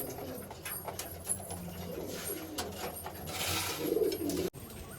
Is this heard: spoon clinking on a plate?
no